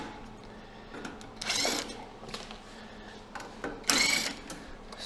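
A power tool driving screws into an induction forge: two short, whirring bursts of the driver with quieter handling noise between them, close up and with no speech.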